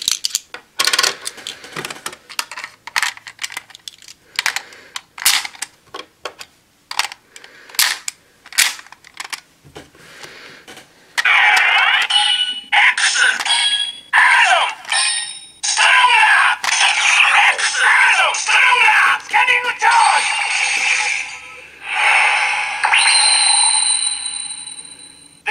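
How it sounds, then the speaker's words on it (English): A collector's CSM OOO Driver toy belt scans the X, Amazon and Stronger Kamen Rider medals, giving sharp clicks and clacks followed by a loud, bright electronic scanning charge and summoning jingle that plays on for several seconds. "this creates a scanning charge that is something that replicates the sounds used to summon those three riders from the medals"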